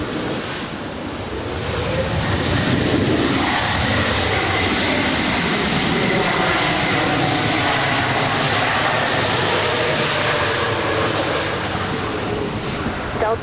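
A Delta airliner, flight 1203 arriving at LAX in Los Angeles from San Francisco, roars loud and steady throughout, with a broad engine rumble that swells near the start and then holds.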